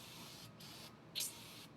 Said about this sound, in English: Now you're good to spray some brake cleaner.